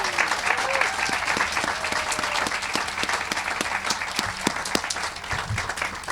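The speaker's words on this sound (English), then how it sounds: "I really do want to ask for a round of applause for my amazing staff" At the FeedMore WNY groundbreaking, an outdoor crowd gives the staff a round of applause, steady and fairly loud with sharp individual claps standing out, while faint voices murmur underneath.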